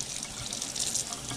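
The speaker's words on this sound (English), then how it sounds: "Go ahead and turn the water on" Kitchen tap running steadily into a sink while a dove is being cleaned and rinsed, a continuous close splashing hiss of water with no talk.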